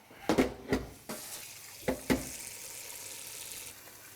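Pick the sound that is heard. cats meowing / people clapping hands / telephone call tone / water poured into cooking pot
water poured into cooking pot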